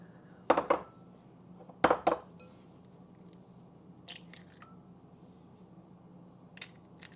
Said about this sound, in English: So we'll go ahead and add the egg.